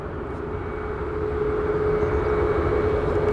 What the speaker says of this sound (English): we also have an Alaska 737 MAX 8 that's taxiing